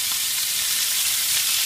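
Butter sizzles in a hot pan with chicken breasts, a dense, bright crackling hiss that holds steady and fairly loud for the whole short moment.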